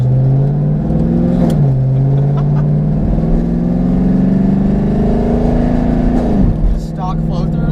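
A loud, steady drag racing car engine idles with a deep rumble, rising in pitch twice as it revs up and settles back down.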